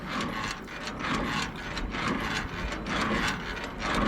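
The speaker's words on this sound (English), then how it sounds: "So holding the handle, we run the landing gear down." Landing gear on an empty trailer being cranked down by hand, giving a steady, continuous ratcheting, grinding mechanical rhythm with regular periodic pulses, close and fairly loud, with no voices.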